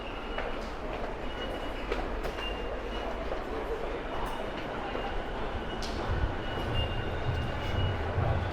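A train rumbles through Akihabara station in Tokyo, with a steady low roar of wheels and carriages and faint metallic squeals, heard amid the noise of a crowded platform.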